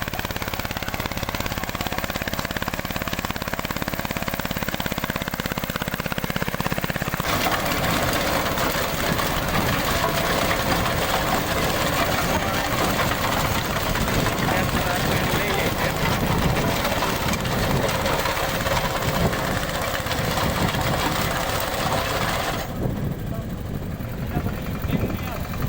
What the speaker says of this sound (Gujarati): ત્રીજા ગેરમાં મેસી 5118 ટ્રેક્ટર ચાલે છે।